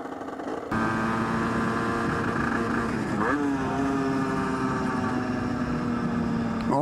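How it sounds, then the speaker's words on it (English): A Derbi GPR 50cc motorcycle engine starts up close by and holds a loud, high-pitched two-stroke buzz, with a brief blip of revs partway through before settling back to a steady drone. "Oh, I like this little high revving bastard. Like I said, this is only a 50cc motorcycle"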